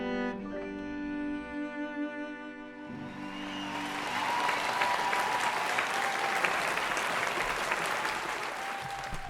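After sustained musical tones fade, an audience at a stage performance breaks into applause that swells and holds as a steady, full round of clapping.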